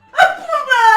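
A dog gives one sharp, close bark, then a strained, whining yelp that rises into a higher cry, all within a second.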